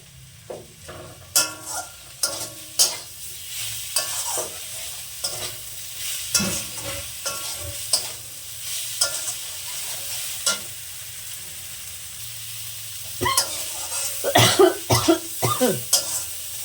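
Kalai greens with broken-up lata fish stir-fried on a low gas flame, a spatula scraping and tossing in repeated bursts over a steady soft sizzle, close by, with an occasional cough or throat-clear.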